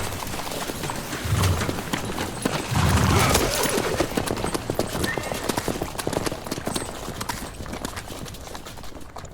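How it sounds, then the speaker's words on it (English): Horses gallop in The Witcher 3, a fast, loud, continuous drumming of hooves with a whinny or two near the start, steady for about nine seconds. "Quick! We grab Roderick's horses and we bolt."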